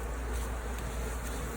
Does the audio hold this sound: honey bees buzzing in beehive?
yes